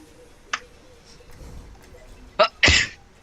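A single sharp sneeze bursts out near the end, preceded by a couple of brief sniffy intakes, close and loud over a quiet room.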